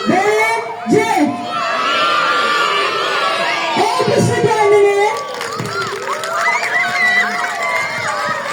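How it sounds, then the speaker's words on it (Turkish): Crowd of schoolchildren shouting and cheering together during a fire drill at a school, loud, busy and continuous, with overlapping voices and whoops throughout. "C dediğimde hep beraber bir, bir, iki diye bağırıyoruz"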